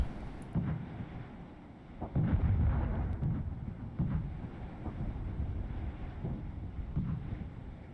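Distant mortar and artillery fire rumbles in the strategy game Regiments, several dull low booms spread across a windy, murky battlefield backdrop with no voices.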